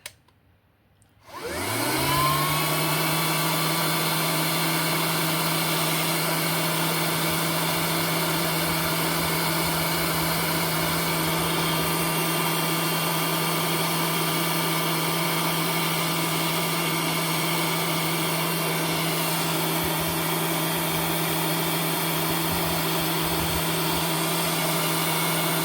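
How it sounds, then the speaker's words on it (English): Simoniz 12-volt vacuum cleaner switched on after near silence, spinning up within a second to a loud, steady, even motor whine that holds unchanged for over twenty seconds, no talking. "now I just had to turn the vacuum on"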